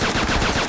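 Rapid gunfire in the Xbox 360 game Attack of the Movies 3D: a dense, loud burst of shots packed together in a short clip with no voice.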